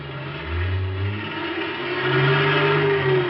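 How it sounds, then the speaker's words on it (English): Big semi-trailer truck engine roaring and revving as it pulls loose from a wrecked sedan in a 1950 NBC radio crime drama, a steady, loud mid-pitched drone that rises in pitch, with no voices. "the truck roared up and started pulling itself loose from the wrecked car"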